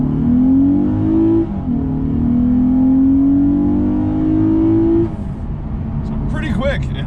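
A 2021 Lexus RC 350 F Sport AWD accelerates hard in Sport Plus mode, its engine note rising, dropping briefly at a gear shift and climbing again before easing off, loud and close from inside the cabin.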